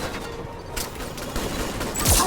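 A submachine gun fires in a shooter video game, with rapid broadband bursts of shots rattling close and loud across the whole moment and a brief sharper crack near the end.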